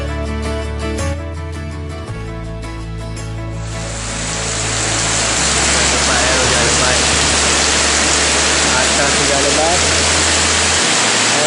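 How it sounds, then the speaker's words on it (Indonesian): Heavy rain on a hilltop at Bukit Guling Ayam in Gombak builds into a loud, steady wash of dense hiss after a few seconds of music and continues unbroken to the end. "Mungkin kat Nandi pun hujan ni, tapi kat atas ni lebat ya."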